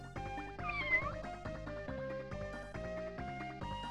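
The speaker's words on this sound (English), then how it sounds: "Cat noises are getting on your nerves" Repeated meows from a cat in the SNES game The Addams Family: Pugsley's Scavenger Hunt sound over looping chiptune background music, a bright wavering meow rising above the steady synthesized tune.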